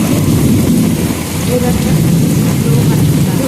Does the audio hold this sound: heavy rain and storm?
yes